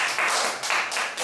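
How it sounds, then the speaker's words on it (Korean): Clapping from students in a classroom welcoming a new classmate, a short, fairly quick patter of hands from a small group, moderately loud and close, lasting about a second. "박수 주세요."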